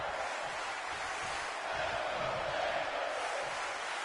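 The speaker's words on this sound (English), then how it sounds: "The crowd is into this one." A virtual arena crowd in the WWE 2K22 video game roars steadily during a steel cage triple threat match, a continuous broad wash of cheering at moderate level with no distinct voices.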